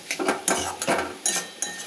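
Bottle gourd curry being stirred in a pan, with a few short scraping clinks of a spoon against metal in quick bursts, close and fairly clear.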